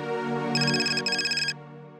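A mobile phone ringtone plays: a steady tonal melody, then a brighter chiming pattern in two bursts with a short gap between them, before it stops abruptly. It sounds close and clear in a quiet indoor scene.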